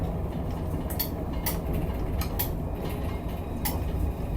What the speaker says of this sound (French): il entend le tramway